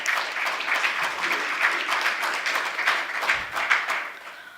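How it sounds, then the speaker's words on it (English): Sustained applause from an audience at an evening panel discussion in Sydney, Australia, a steady dense clapping that continues throughout with a slight swell near the end. "Please give them a warm round of applause and for joining us tonight."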